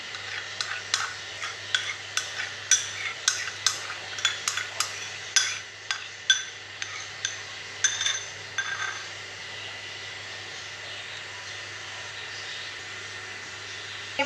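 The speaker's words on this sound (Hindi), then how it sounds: "अब इसमें कंडेंस्ड मिल्क डालूंगी और इसको अच्छी तरह दोनों को कर लूँगी" A spoon clinks rhythmically against a glass or steel bowl while whipped cream and condensed milk are mixed for homemade mango ice cream. About fifteen sharp, close taps come in a steady rhythm, then the clinking stops and a quiet hum remains.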